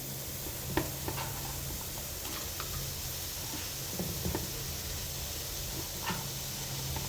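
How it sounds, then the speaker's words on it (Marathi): Thinly sliced onion roasts on a hot tawa over a gas stove for Satari chicken rassa masala, giving a faint, steady hiss with occasional soft ticks and crackles, no voices. "इथे गॅसवर तवा ठेवला आहे, तर ते आपण कांदा टाकून घ्यायचा आहे, उभा पातळ चिरलेला"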